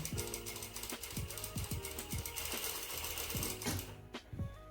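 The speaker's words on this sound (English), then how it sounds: "now we're going to continue the stitch around the pocket bag" A sewing machine runs a continuous seam around a trouser pocket bag, whirring steadily with a fast rhythmic needle chatter, close and alone, then briefly pausing near the end.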